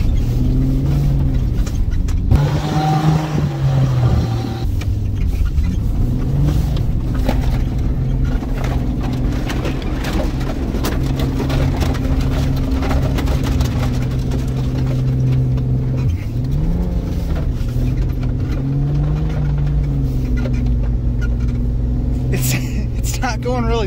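The engine of a 1996 Jeep Cherokee XJ drones steadily and loudly from inside the cabin while it drives through a foot of fresh snow in two-wheel drive, with pitch rising and falling as it revs, beneath ongoing talk.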